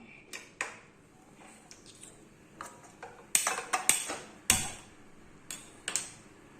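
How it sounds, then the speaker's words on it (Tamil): A gas stove is switched on to melt jaggery syrup for peanut balls, with a series of sharp, close clicks and metallic clanks coming in irregular bursts against a quiet kitchen background. "இப்போ அடுப்பை ஆன் பண்ணிக்கலாம்"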